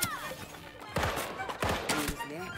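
Pistol shots from precision pistols in the video game Deceive Inc, a few loud, sharp cracks spaced roughly half a second apart, close by, with a voice talking over them.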